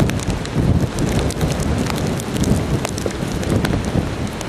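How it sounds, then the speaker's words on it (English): Heavy rain from Hurricane Irene pours down hard and steady, close and loud, with gusting wind and sharp drop impacts running throughout and no talking. "it wasn't raining like this when I came out before"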